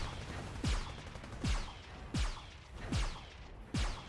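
Gunfire in the Gundam Evolution video game, five evenly spaced booming shots, each with a sharp sweeping tail, repeating about every three-quarters of a second at a fairly faint level.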